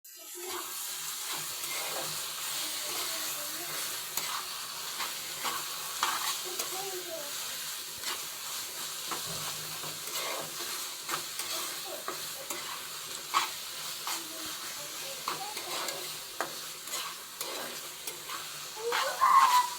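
Red amaranth greens are tempered in a hot pan, giving a steady, close frying sizzle with stirring scrapes and small irregular pops throughout, and no voices.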